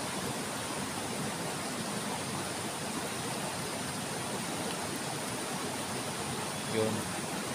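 Strong river current rushing in a steady, broadband wash, loud and close throughout, with a brief faint knock near the end.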